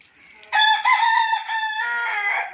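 A rooster gives a single loud, close crow, a long harmonic call that rises and then holds before trailing off, with no other sound around it.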